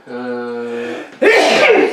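A single loud sneeze, a drawn-out voiced intake breaking into a sharp explosive burst, close to the listener.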